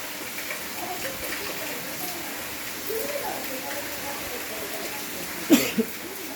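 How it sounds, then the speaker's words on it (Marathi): Rain falling over Beed city, a steady soft hiss of drops with faint background voices and bird calls, and a brief louder knock near the end. "मी आपल्यासाठी कॅमेरामध्ये पावसाचे हे दृश्य टिपले आहे"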